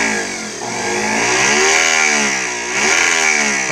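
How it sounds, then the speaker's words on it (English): Homemade variable-speed disc sander built from a salvaged buffer motor on a dimmer switch, a close, loud electric whine whose pitch rises and falls in sweeping waves as the speed is varied. "I was thinking I need a disc sander, and I had this motor, variable speed."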